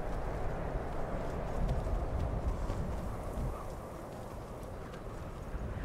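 A horse gallops fast, its hoofbeats blurring into a loud, steady rumble of broadband noise that eases slightly toward the end, with no voices.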